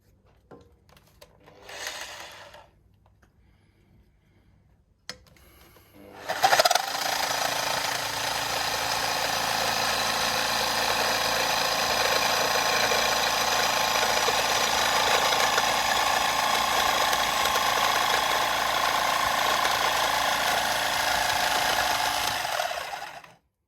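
A jigsaw with an oiled, ordinary blade cuts through an aluminium bike basket, starting after a few quiet seconds with brief handling noise, then a loud, steady, buzzing rasp that runs unbroken to the end.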